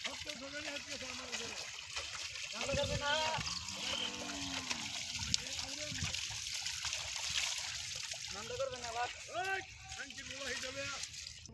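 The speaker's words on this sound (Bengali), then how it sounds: "দেখতে পাচ্ছেন গরুটাকে সাবধানভাবে ধোয়াচ্ছে।" Water splashes and trickles over a cow as it is washed outdoors, a steady wet pour and slosh running throughout with people talking over it.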